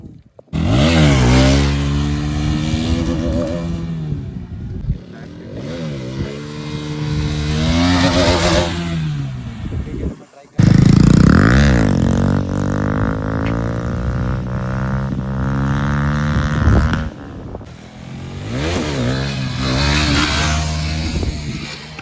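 A Bajaj Pulsar 220 motorcycle revs hard through a long wheelie, its engine note climbing and falling in repeated loud surges close by. It cuts out briefly mid-way, then returns even louder.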